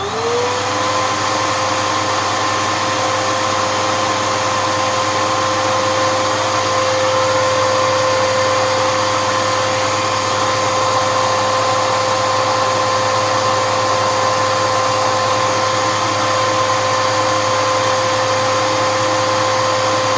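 A Bissell Powerforce Helix upright vacuum cleaner runs continuously during an airflow test, a loud, steady motor whine and rushing air with a constant high tone, no talking.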